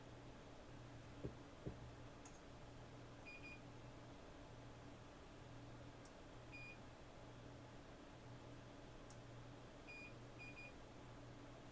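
A continuity tester beeps faintly while a Genesis Model 3 console is being wired, with short high-pitched beeps in small clusters repeating every few seconds over a steady low hum.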